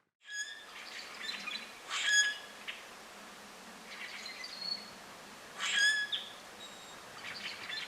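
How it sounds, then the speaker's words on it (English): Rusty blackbirds give short squeaky, metallic calls in a few bursts from the trees, set against a soft steady outdoor hiss. "Rusty blackbirds, you know?"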